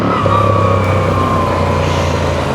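A Moto Guzzi V7 Sport motorcycle engine drones loud and close while riding, its pitch sliding down smoothly as a gear is changed, with wind rush over the top and no talk.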